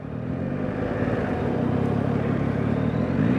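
A 2024 Yamaha MT-09 three-cylinder motorcycle engine drones steadily while riding, a close, continuous low-pitched hum with a slight rise at the end.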